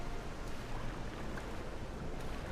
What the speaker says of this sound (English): Yes, it very much is still actually raining